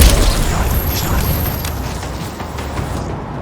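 A grenade goes off in the game Loopmancer, a loud close boom at the start trailing into a long rumbling roar of debris and noise that fades away by the end.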